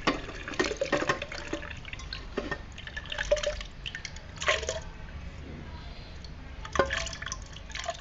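Cooked grapes and their water poured into a glass jar while making homemade non-alcoholic red wine, giving intermittent wet splashes and drips in a few short bursts, close and fairly quiet.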